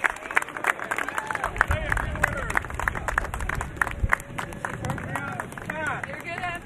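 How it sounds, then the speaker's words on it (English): A crowd applauds and claps for truck drivers at the arrival of the US Capitol Christmas Tree in Washington, DC, a steady outdoor round of clapping mixed with voices and nearby talk throughout. "A round of applause for the truck drivers"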